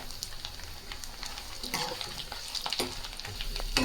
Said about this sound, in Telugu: ఇలా కొంచెం పసుపు వేసుకొని ఫ్రై చేసుకుంటున్నాను నేను.